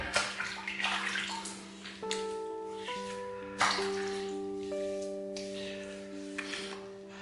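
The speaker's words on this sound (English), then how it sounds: "Put some water over that." Water is poured over a small, worn-down cube of goat's milk soap, with splashing followed by a series of drips and trickles, close and clear with no talking.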